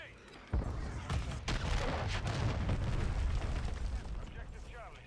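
A grenade blast in a military shooter video game, a sudden deep boom followed by a rumbling, crackling tail, with faint game chatter and gunfire in the background.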